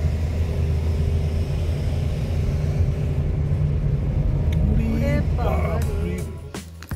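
A car engine labours up a steep mountain road, a steady low rumble that carries on under the talk before easing off near the end.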